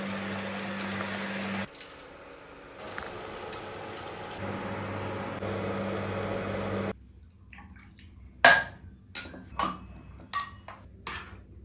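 Puja items are washed with water. Faint splashing and background hum give way to sharp metallic clinks and drips close by.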